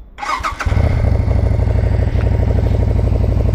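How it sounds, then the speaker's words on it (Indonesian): An SM Sport V16 cruiser motorcycle cranks briefly with a starter whir, fires up and drops into a loud, close, even idle with a rapid, steady thumping pulse, and no one speaks over it. "Tuh bisa lihat speedometer yang gagah banget, dan kita nyalain motornya."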